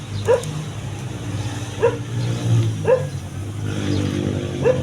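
A dog barks four times at spaced intervals, sharp and close, over a low steady rumble of background noise.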